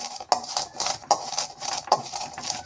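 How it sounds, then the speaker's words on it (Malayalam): A knife chops garlic on a cutting surface with a few sharp, evenly spaced taps about a second apart, mixed with quieter scraping and knocking in between, close and moderately loud. "നല്ലപോലെ അരിഞ്ഞെടുക്കട്ടെ"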